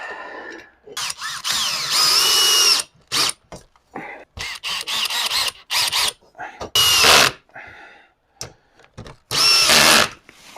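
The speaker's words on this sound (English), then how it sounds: "So I went through and ground them off with the grinder." An angle grinder works burrs off the metal rails of a Masterforce two-door wall cabinet in short, loud bursts, its whine rising and cutting off repeatedly with brief pauses between passes.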